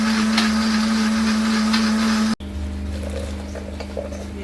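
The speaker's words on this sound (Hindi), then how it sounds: "अब इसे ब्लेंड कर लेते हैं" Electric blender whirring steadily as it blends mustard greens with ice for saag, a loud constant motor hum that cuts off abruptly, followed by a lower, quieter spin-down.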